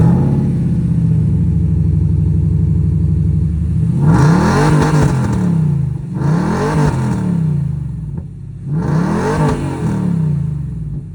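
A Nissan Xterra with an aftermarket axle-dump exhaust idles with a deep rumble, then revs three times in loud, rising bursts that fall back to idle between them.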